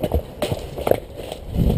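Horse hooves clip-clop in a short run of several uneven beats, fairly close and moderately loud, on a ride along a hedge line with a tired horse.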